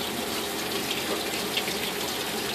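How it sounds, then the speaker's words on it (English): Hot water runs steadily from a kitchen tap into a closed sink, filling it to warm canning jars for dill pickles; a constant, close, full rushing gush with no speech. "Get your water running really hot as you can."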